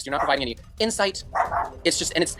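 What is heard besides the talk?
dog barking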